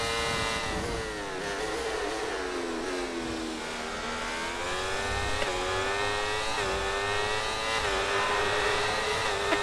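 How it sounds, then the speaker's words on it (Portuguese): A Formula 1 car engine in the F1 24 racing game screams at high revs, its pitch rising and dipping steadily with gear changes and throttle, loud and continuous without any voices. "Olha que coisa linda de motor. Meu Deus, vai explodir,"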